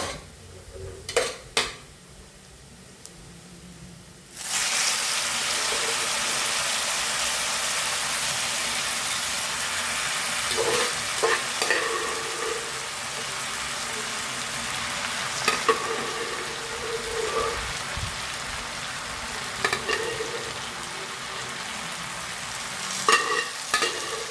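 A jackfruit mixture sizzles as it fries in a pan. A quiet start with a few clinks gives way to a loud, steady hiss, and utensil scrapes and knocks recur throughout as it is stirred.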